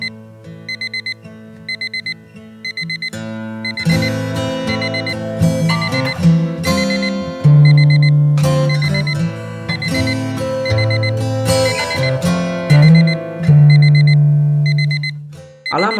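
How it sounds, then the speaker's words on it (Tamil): An alarm clock rings with a bright, repeating electronic tone pattern, starting with sparse beeps and swelling into a fuller, looping melodic chime that plays loudly and close with no voices. "அலாம் அடித்த உடனே டக்குன்னு அதை ஸ்னூஸில் போட்டுட்டு"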